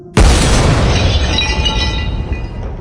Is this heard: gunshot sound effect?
yes